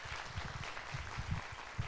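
A church congregation claps along during a sermon, with dense broadband clapping and a few louder accents, moderately near and steady, without talk.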